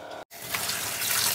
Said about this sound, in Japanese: ちゃんとお湯出ました、 湯出た、勢いめっちゃいい